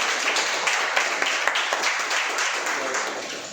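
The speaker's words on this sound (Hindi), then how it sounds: "तो तालियां हो जाए उसके लिए" An audience at a product presentation in a hotel applauds, a dense wash of many hands clapping at moderate distance, steady and sustained before slowly thinning out.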